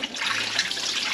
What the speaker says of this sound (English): While I'm rinsing the buttermilk out, I am using my hands to knead the butter around